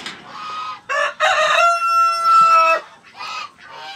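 Black Australorp chickens clucking and calling close by on a farm, a run of loud, overlapping squawks and drawn-out crow-like cries with short pauses between them.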